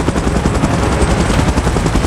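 A helicopter's dense, steady rotor roar fills the scene during a giant-monster battle, loud and continuous with choppy low-end pulsing and no voices.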